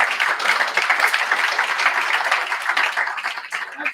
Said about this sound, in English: that was a round of applause